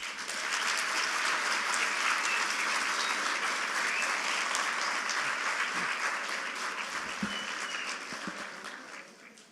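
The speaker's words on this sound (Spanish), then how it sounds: "nosotros lo vamos a saludar y darle una cordial bienvenida aplaudiéndolo" A crowd at the FILSA 2014 book fair warmly applauds author Antonio Skármeta, full clapping holding steady before tapering off at the end.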